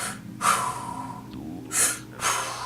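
A few heavy breaths, sharp inhales and exhales spaced a second or so apart, over a dark, low-pitched musical backdrop with percussion imitating a heartbeat, on a track.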